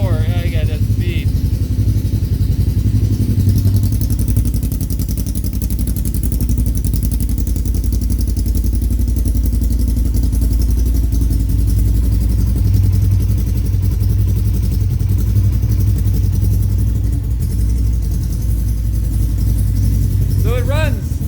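A Polaris RZR RS1 side-by-side idles with an aftermarket exhaust and Stage 2 tune, a steady, deep rumbling throb that holds throughout, with a few faint sounds of activity nearby.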